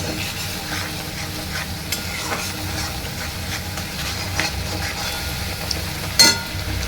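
Ground spices, coriander and Kashmiri chilli powder with turmeric, fry in a pan for Bengali fish curry with a steady close sizzle, repeated stirring scrapes and a sharper clank near the end.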